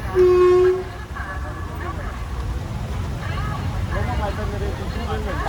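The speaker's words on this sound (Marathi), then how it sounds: "ट्रेन गाडी आली इकडून आणि तू आता आली ट्रेन" A train horn blasts briefly, then a steady heavy rumble of a train rolling past close by, with faint voices in the background.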